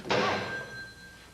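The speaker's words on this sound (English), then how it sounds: "answer the phone." A single telephone ring sounds close and fairly loud, with a sharp onset and a sustained tone that slowly fades, no voices over it.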